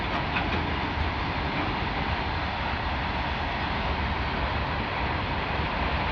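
A train engine and its wagons roll along a railway, making a loud, steady, unbroken rumble with no voices.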